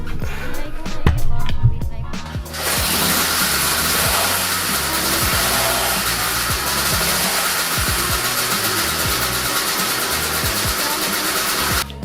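A Cady garden tractor engine starts up indoors, a few sputtering cranks giving way to a steady, fairly loud running drone that holds evenly to the end.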